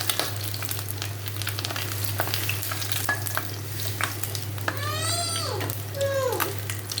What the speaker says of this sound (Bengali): ডিমটা ভাজা হয়ে গেছে, এখন তুলে রাখবো।